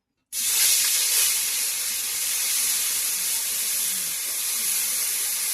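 Onion paste dropped into hot fish-frying oil with cumin and bay leaves, bursting into a loud, steady, close sizzling hiss that starts abruptly after a brief silence and continues unbroken.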